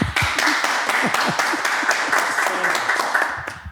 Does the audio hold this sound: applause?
yes